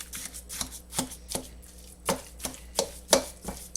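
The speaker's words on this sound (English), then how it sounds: "I am using a wooden spoon right now" Hamburger steak mixture with A1 steak sauce being mixed by a wooden spoon in a bowl, a series of dull rhythmic thuds and scrapes about twice a second, close and unaccompanied by speech.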